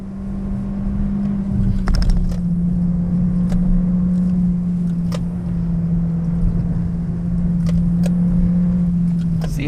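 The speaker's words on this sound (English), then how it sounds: "See how smoothly the car takes the corners." A Volkswagen Golf 1.4 TSI R-Line drives through corners with a steady, smooth engine hum and road noise inside the cabin, a constant low drone with occasional faint clicks.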